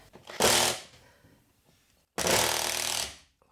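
A power drill drives screws during home curtain installation, two loud buzzing bursts, the first short and the second longer and steady, separated by a quiet gap with faint handling noise.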